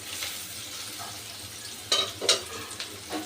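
Lightly fried chopped onions sizzle softly and steadily in a pan, with a few sharper spatters and stirring scrapes standing out near the end; no talk over it.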